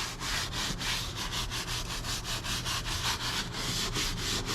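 A brush scrubs leather with cleaner in fast, even back-and-forth strokes, a loud close rhythmic swishing that continues without a break.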